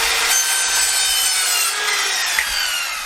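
Hand sawing through wood for a campervan frame, a rasping back-and-forth stroke that runs continuously, close and fairly loud, with no pauses.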